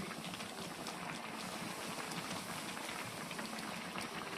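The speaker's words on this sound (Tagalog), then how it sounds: "Pinakuluan ko lang sa gata" Coconut milk simmering with squash and string beans in ginataang kalabasa, a steady close bubbling and crackling hiss that runs evenly throughout with no voices.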